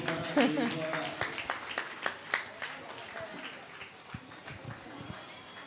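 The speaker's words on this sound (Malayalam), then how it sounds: "എല്ലാവരും ഒരു നിറഞ്ഞ കയ്യടി കൊടുക്കുക." An audience at a nursery annual day claps in a scattered, irregular burst of applause that thins out over a few seconds, with a voice speaking over it at the start.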